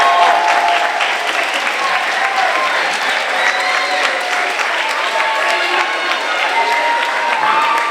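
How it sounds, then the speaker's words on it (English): Students and audience at a school moving-on ceremony give a sustained round of applause: loud, close, dense clapping with some crowd noise, holding steady for the whole stretch. "let's give our folks a round of applause for all the work to get here"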